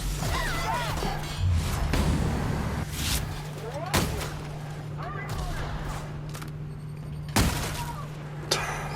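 Gunshots and impacts from The Outer Worlds on PS5 sound in a few sharp, loud cracks over a busy, steady game background, with some voices in the mix.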